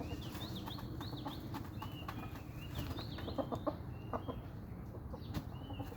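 Young fighting rooster clucking and calling in short, repeated bursts over a low, steady background, with a few sharp knocks and scuffs, fairly faint and not far off.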